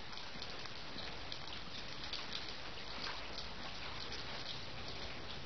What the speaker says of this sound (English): Yeah, it is absolutely pouring in here.